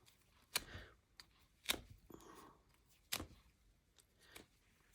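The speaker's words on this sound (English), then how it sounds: "Maybe let's fray this a bit. I'm hoping I can just do it by sort of ripping a bit." Fabric being torn by hand to fray the edge of a purple and teal journal cover, heard as a few short, sharp rips spaced apart with quiet pauses between, close and fairly faint.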